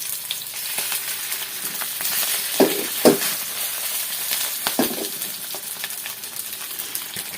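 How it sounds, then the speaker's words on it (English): Chicken dumpling filling sautés in a pan over fairly high heat, with a steady, loud sizzle and a few short stirring knocks and scrapes. "I'm going to saute a little bit. Saute everything."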